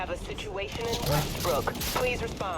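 Rapid bursts of gunfire in Cyberpunk 2077 crackle over a steady background of music and effects, with a voice talking over the shots.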